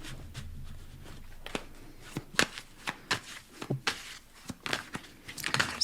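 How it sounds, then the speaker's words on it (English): Cards being shuffled close up, a series of quick riffling bursts and soft slaps in an irregular rhythm, no talking. "Let's shuffle out some cards."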